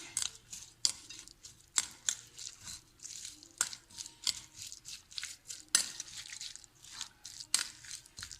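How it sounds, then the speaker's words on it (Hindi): A chicken patty mixture with chopped carrot, coriander and green chili is stirred and mixed in a bowl, giving repeated soft clatters and scraping knocks in a steady, uneven rhythm without talk. "अब इसे हम अच्छे से मिक्स कर लेंगे।"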